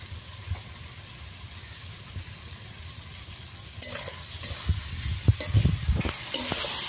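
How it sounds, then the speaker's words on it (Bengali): Spice paste fries in a pan with a steady close sizzle, while a spoon scrapes and stirs in irregular clattering strokes that grow busier toward the end. "হয়ে গেছে আমার মশলাটা কষা।"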